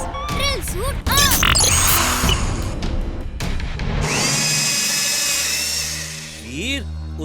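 Cartoon robot boy's drill suit whirring on, a loud mechanical buzz and grinding with crashing hits and synthetic sweeps, a steady high whine in the middle, then rising electronic chirps near the end.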